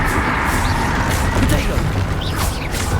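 Spell-casting blasts and booming magical impacts from Hogwarts Legacy gameplay on PC, loud and continuous, with dense rumbling bursts and crackling layered over a steady game soundscape.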